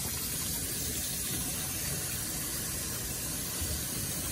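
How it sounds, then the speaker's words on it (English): Steady rush of water from a running tap, continuous and close, like hands being rinsed under the flow. "Y'all pardon the noise, I'm washing my hands."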